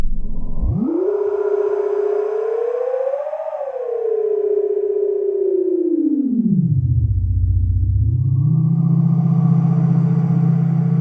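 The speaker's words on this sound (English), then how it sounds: "So here I've got this atmospheric sound." A rumbly atmospheric sound sample, a loud, sustained droning tone that sweeps upward, holds and drifts, then dips low and settles into a steady deep hum, with no voices.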